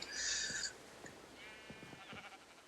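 A white wool sheep in a video game lets out one short, bright bleat at the start, followed by faint clicks and a soft tonal sweep.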